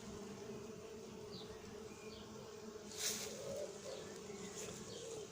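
Honeybees buzzing busily around hives as foragers return loaded with pollen, a steady close insect drone with occasional louder passes near the ear and faint birds far off.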